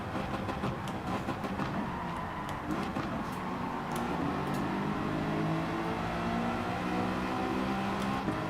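A race car in Gran Turismo 7 runs in seventh place, its engine droning loud and steady with rising and falling revs as it shifts and brakes into a corner, with no one talking.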